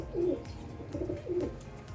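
Lahore Siraji pigeons coo, three low throaty coos in a slow rhythm, close by over a constant background hum.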